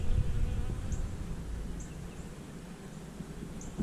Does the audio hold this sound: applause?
no